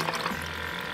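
Minnow dye glugs from a bottle into a container of water, a brief, close, continuous splashing pour.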